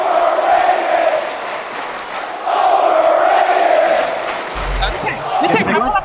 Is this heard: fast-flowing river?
no